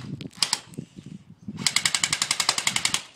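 A gun fires a rapid, evenly spaced string of roughly fifteen sharp, loud cracks at a car, preceded by a few scattered shots, with no talking.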